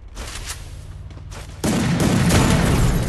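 An M10 gun in Free Fire fires in rapid continuous bursts, a dense, loud rattle that grows heavier and louder partway through.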